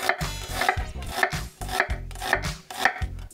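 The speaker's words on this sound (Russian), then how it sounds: "Мы берем красный лук, и нам нужно его нарезать на мелкие кусочки," A knife chops red onion into small cubes on a board for Georgian kharcho soup, about six rhythmic, close, fairly loud cuts at an even pace, each a crisp knock with a short scraping rasp, and no talking.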